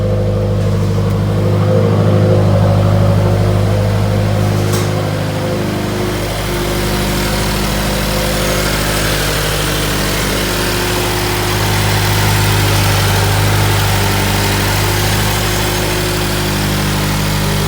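A 2016 Subaru WRX engine idles steadily up close after a spark plug change, a constant low rumble with a mechanical hum that holds even for the whole stretch.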